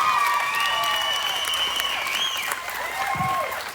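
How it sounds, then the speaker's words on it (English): Sustained applause from a crowd at a livestock show's junior swine showmanship, steady and fairly close, fading slightly at the end, with a voice briefly audible underneath. "join me in giving a warm round of applause to our judge today, Mr. Kane Austin."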